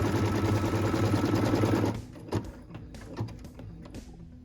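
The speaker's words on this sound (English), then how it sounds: "What we're stitching now is a cut line so that we can put piece number 5 into our block." Embroidery machine stitching a cut line on fabric for an in-the-hoop zipper pouch, a fast steady mechanical whir for about two seconds that then stops, leaving faint clicks and handling noises.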